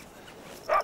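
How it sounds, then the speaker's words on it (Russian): A single short, sharp dog bark near the end, rising out of a quiet background at a middle distance, with no talking. "Чья собака? Уберите собаку!"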